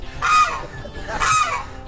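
A bird at Lake Merritt gives two loud, close, honking calls about a second apart, each a harsh nasal blare.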